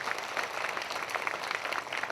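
Audience applause at a prayer meeting, a continuous, even patter of many hands clapping, fairly quiet and distant-sounding for its whole length.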